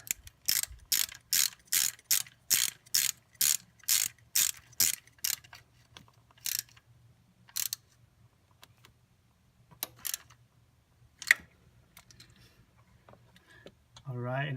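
Close, sharp ratchet clicks in quick bursts as distributor bolts are tightened on a sixth-generation Toyota Celica, followed by sparse clicks and small handling noises with a short mechanical whir at the end.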